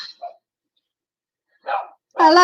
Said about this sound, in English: Teeny is barking at Whitby, is she